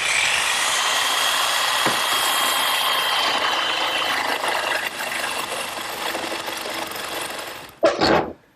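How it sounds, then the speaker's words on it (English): A handheld jigsaw fitted with a metal cutting blade saws through a piece for a child's wagon, buzzing steadily and loudly for several seconds before ending with a brief clatter. "I'm going to make this cut first, just using my handheld jigsaw and a metal cutting blade."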